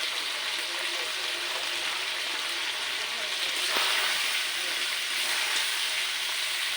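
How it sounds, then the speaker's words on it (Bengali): Chicken being sautéed with ground garam masala paste in a pan for a home-style chicken gravy, a soft continuous sizzle and hiss with a faint clink near the middle, no talking. "ভালো করে আমি কষে নেব।"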